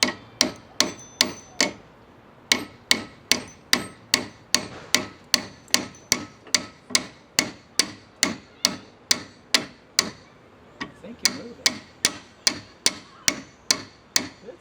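Hammer tapping a press-fit Rosta pivot on a bicycle during a repair, a steady series of about thirty sharp metallic strikes in a regular rhythm, close and fairly loud, with a brief pause near the start and one near the end.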